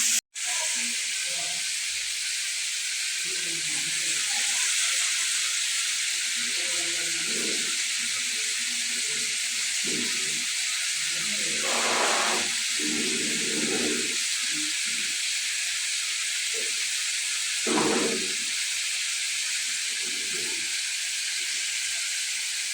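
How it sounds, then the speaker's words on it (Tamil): Cut pieces of elephant foot yam fry in hot oil, giving a loud, steady, close hiss and sizzle that runs unbroken, with a few faint clinks and stirring noises underneath. "இந்த கருணக்கிழங்கு பொன்னிறமாக வருந்தனை நாங்கள் பொரிச்செடுப்போம்."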